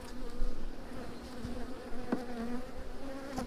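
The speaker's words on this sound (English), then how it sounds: "And then all I need to do now is just to shake some bees into it." Honey bees hum in an open hive while a beekeeper prepares a walk-away split, a continuous close buzzing drone at moderate volume with occasional brief knocks.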